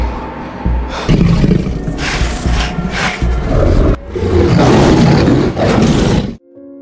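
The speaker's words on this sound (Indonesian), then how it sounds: "Dan benar saja, ternyata itu adalah suara dari harimau zombie." A zombie tiger in a film lets out loud, rasping roars in two long bursts separated by a brief break, ending abruptly with a short tonal sound.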